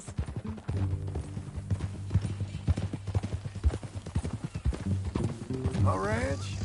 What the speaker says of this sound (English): That a new horse?